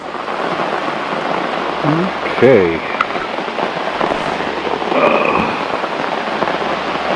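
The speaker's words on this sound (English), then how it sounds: "the predicted rain has begun" Steady rain patters on a campsite tarp at Little Pond Campground in New York, a dense continuous hiss filling the whole clip, with a brief spoken word partway through.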